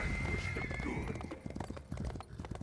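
A horse in a video game walks at normal movement speed, its hooves giving a steady, close clip-clop rhythm, with a brief whinny near the start.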